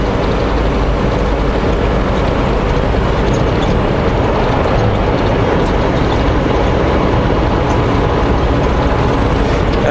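A heavy truck's engine drones loud and constant while descending a steep downhill grade on Highway 97 out of Penticton toward OK Falls, forming a dense, unbroken roar with no clear gear changes standing out.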